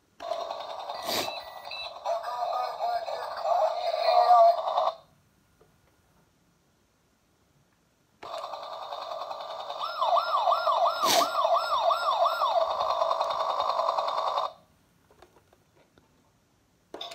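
Chad Valley toy helicopter plays electronic siren effects in two bursts separated by a silent pause, the second burst with a fast wailing warble, loud and close with no speech.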